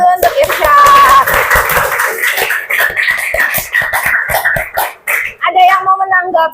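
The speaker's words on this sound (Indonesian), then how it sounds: "Berikan tepuk tangan dulu untuk Irsyad." Classroom applause for a student, a burst of many hands clapping with scattered sharp claps, mixed with children's voices and chatter in a lively room.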